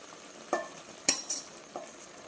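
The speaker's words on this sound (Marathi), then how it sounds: "आता आपण आपला हा भात टाकून घेऊया आपण जो हाफ फ्राय केलेला आहे" Half-fried rice tipped into a pan of egg biryani with coriander, giving a few scattered scraping and clinking hits of spoon against metal over a faint background sizzle, with no voices.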